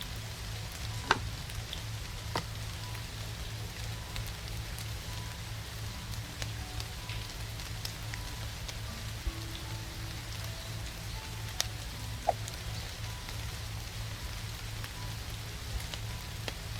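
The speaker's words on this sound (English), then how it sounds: "Try this, but it's raining, so it may affect it." Steady rain falls in the video game Legend of Heroes: Three Kingdom, a constant dense hiss with occasional sharper drop ticks and a low hum beneath.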